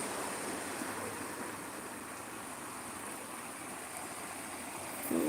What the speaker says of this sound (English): Lovely water.